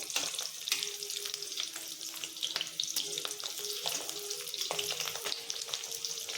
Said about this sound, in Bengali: বন্ধুরা আমার বড়াগুলো ভাজা হয়ে গেছে